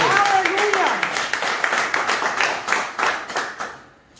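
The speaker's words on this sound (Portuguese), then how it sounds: "Você pode dar um salve de palmas?" Church congregation at a Brazilian evangelical service clapping together, a steady burst of many hands with faint voices mixed in, tapering off toward the end.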